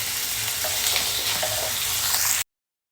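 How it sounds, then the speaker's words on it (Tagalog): Potatoes and carrots fry together in oil in a pan, giving a loud, even sizzle with faint stirring, close up, before cutting off abruptly. "Ilagay din natin yung patatas. Sabay na natin yung prito."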